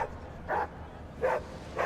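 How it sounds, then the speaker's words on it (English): A dog in the sci-fi game Rogue Trader gives two short barks about three-quarters of a second apart, with a third beginning at the end, over a quiet low hum. "Why are you barking at?"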